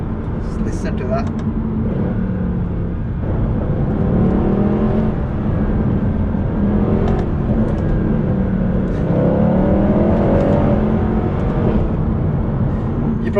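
Mercedes AMG C63 (W204) V8 idling and revving with a steady deep rumble and whirring, loud and close throughout, with someone speaking over it.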